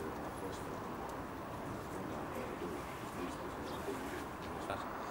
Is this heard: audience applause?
no